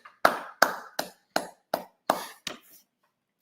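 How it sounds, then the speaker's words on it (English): Sparse clapping at an award night, about eight separate, sharp claps in a loose rhythm that slows down and then stops, heard close and alone with no talk. "Clap for yourself."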